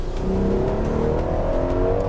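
A car engine pulls hard under acceleration, its rising harmonic tones climbing steadily in a loud, continuous, building roar with no talk over it.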